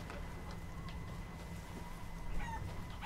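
Chickens cluck softly in the video game Resident Evil Village, faint scattered clucks over a dull ambient game background, with a slight rise near the end.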